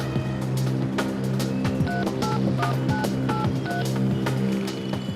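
Telephone keypad dialing tones for a local call, a string of short evenly spaced beeps over a low steady hum, close and clear with no talk.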